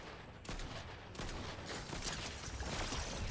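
Pistol fire in Fortnite's Day of Doom mode comes in several sharp shots over a few seconds, mixed with busy game noise at low level, with no talk during the firing.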